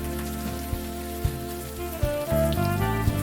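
Rain falls steadily in the Unavowed video game, a continuous wash under a low musical drone, with a few soft thuds scattered through it.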